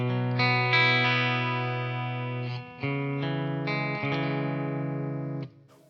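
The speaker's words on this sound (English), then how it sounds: "Now, this ambient tone is one of my favorite things that has ever existed, except for Fresco, of course." A clean electric guitar sounds through an effects unit with an ambient tone, sustained chords ringing out with shimmering reverb and delay in two strummed phrases.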